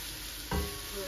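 Coriander leaves hitting a hot pan with a sudden loud sizzle and stir, the frying hiss rising midway and continuing steadily nearby.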